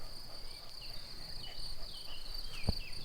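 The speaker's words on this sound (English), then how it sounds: "I love the sound of the crickets." Crickets chirp in a continuous high-pitched shimmering chorus across a rural field in the Limousin, France, steady and moderately loud, with a brief thump near the end.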